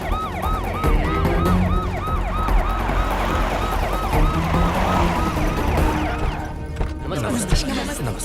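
An ambulance siren wails in a rapid repeating up-and-down pattern, loud and close over a rumbling vehicle engine, then cuts off near the end as other noises take over.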